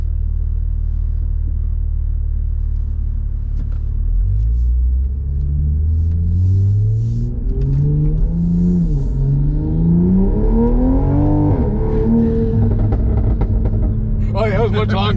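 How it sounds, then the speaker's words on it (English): A tuned 2020 Toyota GR Supra rumbles loud and close, its engine climbing steadily in pitch as it revs, with a few crackles near the end and voices talking over it. "we're gonna go full send with it. Oh, you want a max burble? That's a max burble."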